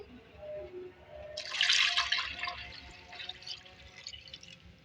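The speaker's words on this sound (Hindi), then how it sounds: "अब इसमें पानी डालेंगे," Water splashes and trickles into a cooking pot of chicken for shami kebabs for a couple of seconds, a bright close pouring burst that tapers into softer dribbling.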